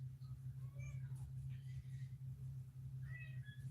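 A pet cat gives several short meows over a low steady hum, the calls rising and falling in quick bursts at moderate distance with no one talking.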